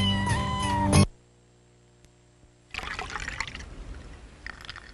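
A cat meows at the start, followed by near silence and then a stretch of rustling, splashing noise.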